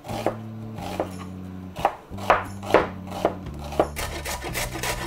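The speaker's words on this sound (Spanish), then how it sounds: "Cortamos la cebolla. Yo la corto en juliana" A knife chops onion into julienne strips on a board for homemade pickles: a steady run of crisp, close cuts at an uneven pace, over a sustained low musical backing.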